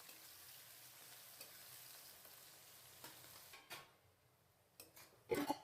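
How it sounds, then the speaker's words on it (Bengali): Onions fry in a pan with a faint, steady sizzle, while a utensil stirs and scrapes a few times, louder near the end. "পেঁয়াজটাকে ভালো করে ভেজে নেব"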